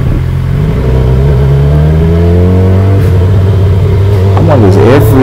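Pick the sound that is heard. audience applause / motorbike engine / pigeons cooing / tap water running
motorbike engine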